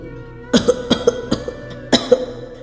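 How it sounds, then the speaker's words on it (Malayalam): Several harsh coughs in quick bursts, close up, with a short pause before a final pair of coughs. "നിർത്താതെ ചുമച്ചു"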